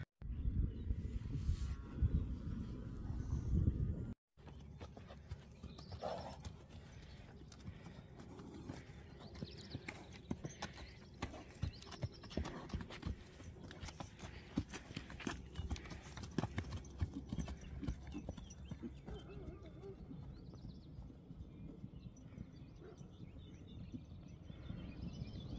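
Horses' hooves clip-clop at a stable, a quiet, continuous patter of steps after a brief burst of close handling noise at the start.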